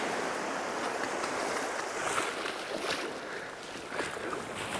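Shallow sea water sloshes and splashes around the legs while wading out knee-deep on a calm, windless night shore with a small swell, a steady close wash of water throughout.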